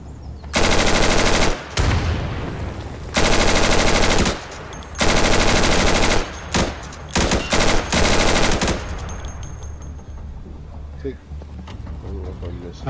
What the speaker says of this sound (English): I'm just gonna try shooting, I'm not gonna go near it.